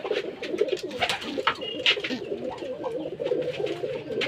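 Rajshahi Giribaz pigeons at a pigeon farm give soft, overlapping coos that run throughout, steady and close, with a few brighter chirps and some faint background noise.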